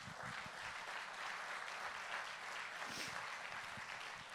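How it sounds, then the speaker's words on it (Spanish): A church congregation claps for the Lord, a dense, even wash of many hands applauding at a distance, quiet but sustained with no break. "Vamos a darle otro aplauso al Señor"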